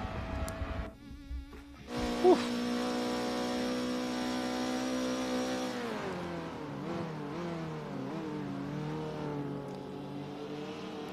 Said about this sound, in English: Very smooth on the downshift there for FRCA Vermin.